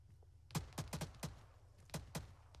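Gunfire in the military video game Arma 3: a scattered burst of about eight sharp shots in two clusters, moderately close, with no talk over them.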